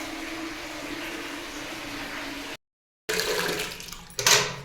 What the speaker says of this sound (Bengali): জলটা ভর্তি করছি।